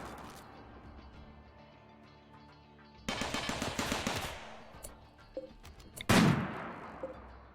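A RimWorld raid plays out with a burst of rapid gunfire, then scattered single shots and a loud blast-like crack near the end, all heard over a quiet background hum.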